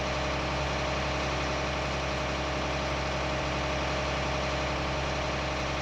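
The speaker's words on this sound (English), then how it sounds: "This case quad is doing a nice job. It's got the HPs behind it, the good horsepower." A Case Quadtrac tractor engine in a farming video game runs with a steady, continuous rumbling drone, loud and even with no changes in pitch and no talking.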